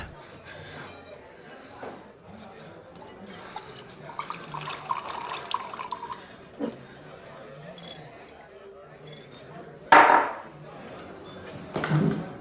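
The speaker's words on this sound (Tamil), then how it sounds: "இன்னொரு பெக்கு ஊத்து." Another peg of liquor is poured into a glass, with a sharp clink and a brief liquid splash near the end, set against a low murmur of background sound.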